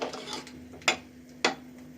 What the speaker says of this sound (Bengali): এখন ঝোল দিয়ে একটা ঢাকনা দিয়ে বসিয়ে রাখবো কিছুক্ষণ